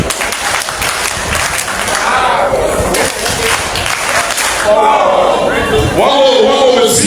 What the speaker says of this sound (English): Let's try our hand clap.